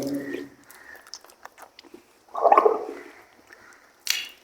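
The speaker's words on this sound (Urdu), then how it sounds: "تو ہم نے 3 مرتبہ کلی کرنی ہے۔" Water swished and gargled in the mouth while rinsing during ablution, a wet burbling squish in short bursts, close up, with brief pauses and a final splash.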